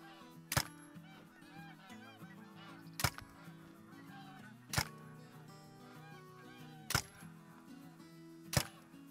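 Geese in the hunting game theHunter: Call of the Wild honk repeatedly nearby, while sharp loud cracks cut in at regular intervals of about two seconds.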